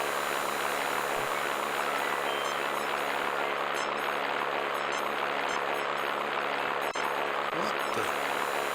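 Propeller plane drone in the Star Trek Judgment Rites video game, a steady buzzing hum holding constant throughout, moderately loud with faint electronic tones over it.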